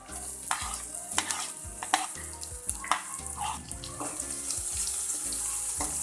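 Onion stirred in a pan with ginger-garlic-chili paste, a spoon scraping and knocking in an uneven rhythm over a soft continuous sizzle, close and moderately loud.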